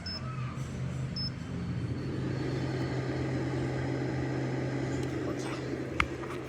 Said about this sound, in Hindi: सो मैं इसको फिर से डालूँगी फ्रायर में और कर देंगे इसका टेम्परेचर सेट।